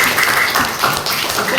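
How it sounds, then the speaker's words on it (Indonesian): Classroom applause for a student, a short burst of many hands clapping together at steady loudness from start to end. "Berikan tepuk tangan untuk yang menambahi Mas Fadel."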